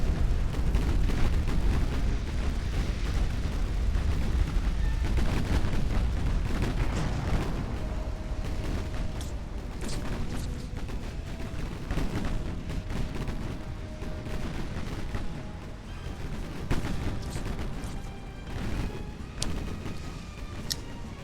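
Heavy warship guns from the naval video game Ultimate Admiral: Dreadnoughts boom continuously in a dense, roaring barrage of overlapping blasts and rumbling impacts.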